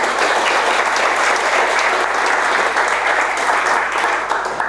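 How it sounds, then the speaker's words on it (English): Audience applause for Brenden Mulligan, a 500 Startups mentor, at an entrepreneurial sharing talk: dense, steady clapping from a full room, loud and sustained throughout with no voices over it. "So let's give an applause to Brenden."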